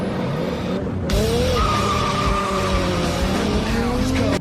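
A Toyota Supra races a Ferrari in a Fast and Furious film scene: tires skid and screech while rising engine whines sweep past. The sound is loud and continuous, with a sudden jump in level partway through.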